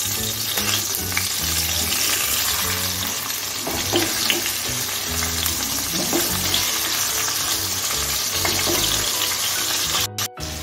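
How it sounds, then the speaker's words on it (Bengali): Katla fish fries in a pan with a loud, steady sizzle that runs unbroken throughout, with no talking. "দেখুন আমি একটু মাছটা হালকা করে ভেজে নিচ্ছি।"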